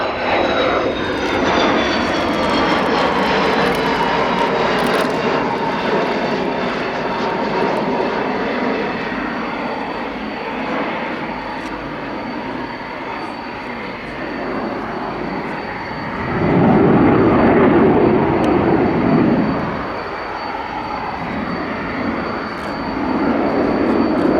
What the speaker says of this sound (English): So the undercarriage is down. So this is for a touch and go, or maybe a low overshoot.